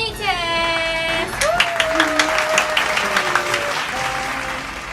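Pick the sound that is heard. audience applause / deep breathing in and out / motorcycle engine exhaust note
audience applause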